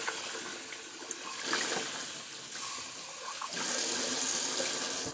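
Tap water runs steadily into a sink as a shaving bowl holding leftover ClubGuy soap is rinsed out, a continuous close splashing with brief surges and clinks of the bowl, no talking.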